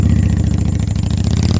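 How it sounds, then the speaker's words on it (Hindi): A motorcycle engine runs steadily at a low, throbbing idle in a Hindi horror story as friends set off by bike for a haunted house at night, loud and close with no talk over it. "हम चारों दोस्त बाइक से उस डरावने घर की ओर निकल पड़े"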